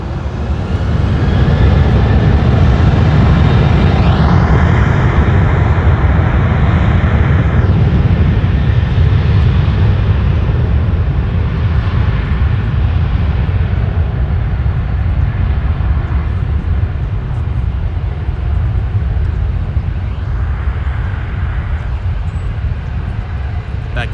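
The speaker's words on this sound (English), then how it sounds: "we have the Delta Thank You livery A321 that should be taken off in a little bit" A Delta Airbus A321 in Thank You livery takes off at LAX with a loud, sustained broadband jet roar that holds steady throughout, without clear talk over it.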